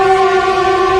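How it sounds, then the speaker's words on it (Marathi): A train passing close to a home, heard from indoors on a rainy day: one loud, steady horn-like tone with stacked harmonics holds unbroken for the full second, with no voices. "ट्रेनचा आवाज तुम्हाला येतच असेल."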